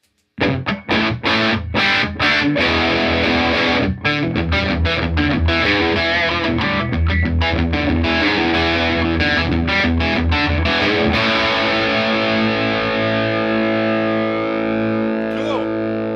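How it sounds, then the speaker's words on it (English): An IYV IND-126 electric guitar played through distortion rings out loudly, starting with choppy strummed chords and stabs, then a sustained chord left to ring and slowly decay, with some effect shimmer. "I'm going to put some distortion in"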